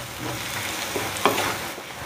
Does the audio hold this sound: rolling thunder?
no